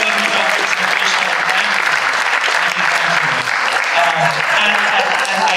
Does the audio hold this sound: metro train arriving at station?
no